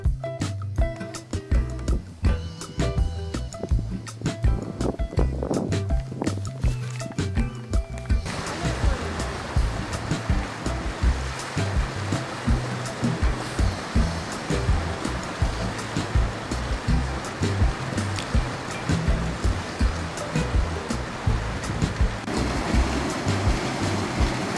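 Water rushes over the waterfalls at Pinawa Dam as a steady, dense roar that holds from start to finish with no break.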